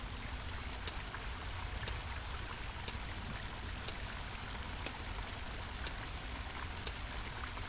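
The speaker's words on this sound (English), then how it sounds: "I want to see what this river is." Flowing river water in The Longing, a steady faint rush of running water with light dripping ticks scattered through it, continuous and uninterrupted, with no voices.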